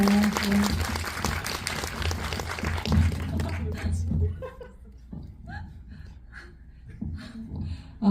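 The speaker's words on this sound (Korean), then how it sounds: "박수 부탁드립니다." Audience applauding after a film screening talk for the Korean indie film Will You Please Stop, Please?, a dense round of clapping for about four seconds that dies away, followed by scattered laughter and murmuring voices.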